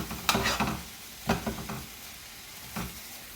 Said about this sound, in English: So now I'm throwing in the spinach.